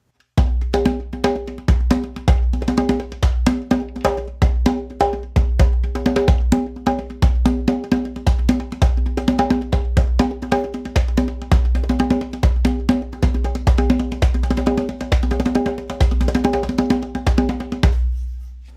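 Fast rhythmic focus music at about 8 to 9 beats per second, a steady percussive pulse with bright cowbell-like hits over sustained tonal layers, running continuously and loudly with no talking.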